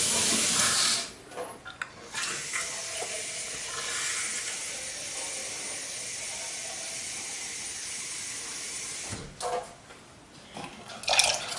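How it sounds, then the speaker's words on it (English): Tap water hisses and sprays into a can, a steady rushing stream at moderate level that runs for several seconds between louder clatter and handling at the start and end. "Then I fill the can with water."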